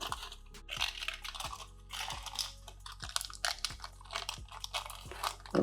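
Greaseproof butter paper peels away from a slab of chilled salted caramel dark chocolate fudge, giving a series of close, crisp crackles and papery crunches, sharp and irregular, over a soft tonal background with no talking.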